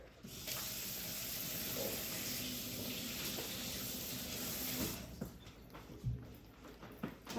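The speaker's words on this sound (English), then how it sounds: "I'm just gonna go wash my hands." Hands being washed under a running tap, a continuous close hiss of water splashing into a sink that stops near the end, followed by a few faint knocks and handling sounds.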